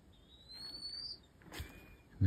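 A bird calls on a hill trek to Panchase, giving a thin rising whistle followed by a second, fainter whistled note, clear against quiet outdoor background, ending with a sudden low thump.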